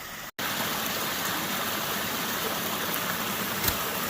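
Steady rushing splash of backyard natural swimming pool waterfalls, close and continuous with a brief dropout near the start and no voices.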